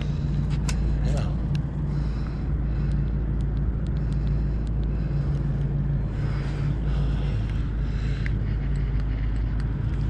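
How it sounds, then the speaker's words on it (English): A loud Dodge Charger or Challenger sports car rumbles past at night, a deep continuous engine drone layered under steady wind and road noise. "Loud sports car."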